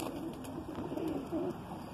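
Low, throaty cooing from a Madrasi pigeon rolls on continuously at close range, gentle and even in level.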